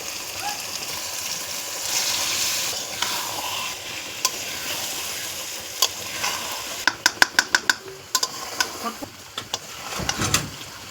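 Bombay duck fish frying in tomato paste, a loud sizzle that runs through, then a quick series of sharp clinks and scrapes from stirring near the end.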